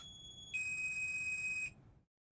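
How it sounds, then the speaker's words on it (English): Potensic Atom 2 drone's Find My Drone locator emitting one sustained high-pitched electronic beep lasting about a second, clear and close over a quiet background, then silence. "you even have the option to tell the drone to start beeping"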